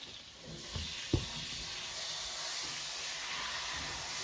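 Corned beef sears in a hot skillet with a steady broadband sizzle throughout, a soft thump near the start and no voices.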